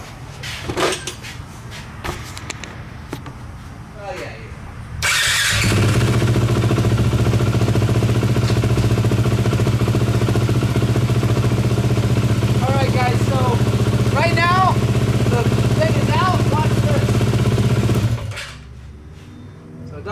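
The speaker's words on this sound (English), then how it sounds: "we're going to fire it up, get it warmed up, and then we're going to adjust it so that it idles correctly" A motorcycle engine, being readied for idle adjustment, fires up abruptly after a stretch of talk and runs at a loud, steady, close idle for about thirteen seconds before cutting off.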